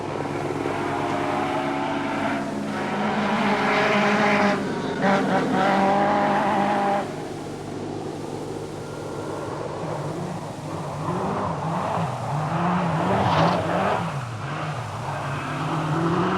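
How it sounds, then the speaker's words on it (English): A Lancia rally car driven hard at the 1984 New Zealand rally, its engine screaming and rising and falling through gear changes and revs, with tire squeal and a second wailing pass later, loud and continuous with no talk. "Marco Hélène is driving his Lancia hard to keep in touch with the Audis"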